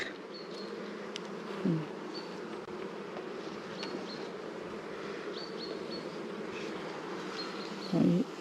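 A honeybee colony hums in an opened beehive, a dense steady buzz of many bees close by with a few louder individual passes and no talk.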